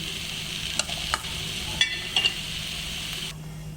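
Close-up scraping and clinking as poha is stirred and heated in a kadhai, a handful of distinct strokes over a soft, steady sizzle.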